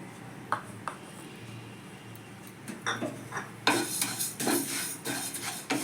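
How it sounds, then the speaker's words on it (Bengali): Mung dal dry-roasts in a wok while a spoon scrapes and clatters against the metal, sparse knocks at first then busier, louder stirring with a faint grainy rustle, close up and without speech. "প্রথমে আমি ডালটাকে একটু হালকা লাল করে ভেজে নেব"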